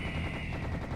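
A Tommy gun firing in the shooter game Serious Sam HD makes a dense, continuous roar of rapid shots, loud and unbroken through one brief second.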